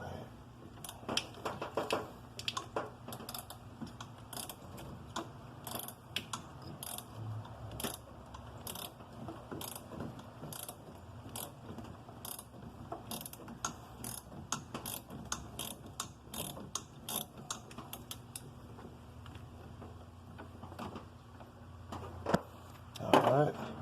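Rapid ratchet clicks in a long run of short bursts as a bolt is backed out on an 82-92 Camaro, close and steady, with someone speaking briefly in the background.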